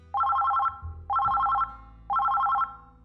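A telephone rings in three loud, evenly spaced bursts of rapid electronic trilling, each lasting about half a second, with quiet gaps between.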